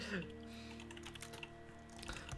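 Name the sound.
typing on a computer keyboard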